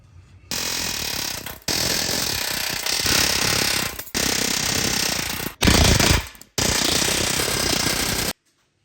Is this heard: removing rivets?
yes